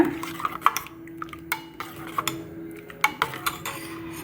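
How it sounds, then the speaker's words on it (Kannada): A spoon stirs a tempering of chilies and curry leaves in a metal cooking pot, scraping and clinking against the metal in irregular knocks, alone and fairly close. "ಇವಾಗ ಒಂದ್ಸಲ ಚೆನ್ನಾಗಿ ಮಿಕ್ಸ್ ಮಾಡೋಣ"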